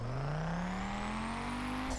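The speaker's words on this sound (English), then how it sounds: "for right now we're gonna use the Ford Focus." Ford Focus rally car engine in the video game The Crew, a loud, steady rising drone as the engine climbs in pitch for two seconds, alone without talk.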